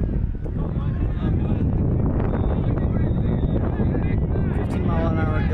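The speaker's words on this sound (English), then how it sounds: "15 mile an hour gusts. Not a steady wind, though. Just kind of flares up." Gusty wind of about 15 mph at an outdoor ultimate frisbee pool-play match, roaring and buffeting close against the microphone throughout, with voices beneath it.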